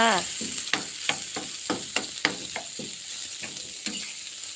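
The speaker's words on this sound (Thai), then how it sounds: "เราก็จะมาผัดข้าวจ้า ผัดข้าว" Rice is stir-fried in a pan, with a spatula scraping and tossing in a quick, uneven rhythm of sharp strokes over a continuous close sizzle, and no voices.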